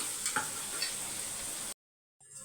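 Small onions sauté in a pan with a steady, close crackling sizzle and a few faint stirring clicks before the sound cuts out and returns briefly.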